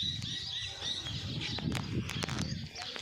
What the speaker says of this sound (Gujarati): જોઈ લ્યો ચકલા અવાજ કરે છે.